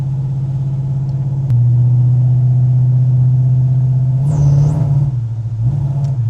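A cold 1969 Dodge Charger V8 idles loud and close with a steady low rumble, then a brief throttle blip makes the engine stumble and sag before it settles back to idle.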